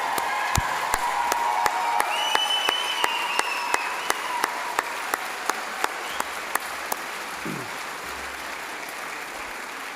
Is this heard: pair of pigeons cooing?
no